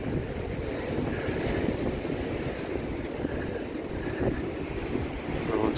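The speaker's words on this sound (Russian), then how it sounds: "Шторм на море" Stormy sea off a sandy seaside resort promenade, a continuous roar of surf and gusting wind buffeting the microphone, loud and steady with no speech.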